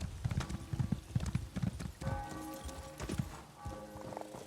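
Horse hooves clip-clop in The Elder Scrolls Online near a stable, a close, rhythmic series of hoofbeats with a few brief tonal game sounds layered over the walking steps.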